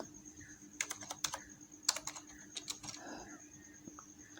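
Keys clatter on a computer keyboard as text is typed, soft irregular bursts of clicks in quick runs with short pauses, quiet and close.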